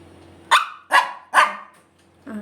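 A dog gives three sharp, loud barks close by in quick succession, each about half a second apart, then starts a fourth bark at the end, with no talking over it.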